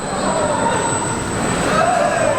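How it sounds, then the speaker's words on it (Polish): The Thor roller coaster thunders along its track inside a huge indoor amusement park in Dubai, a steady loud rolling rumble with squealing wheels, under the constant echoing din of a large hall. "Kolejka Tora wygląda tak."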